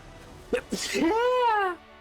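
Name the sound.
sneeze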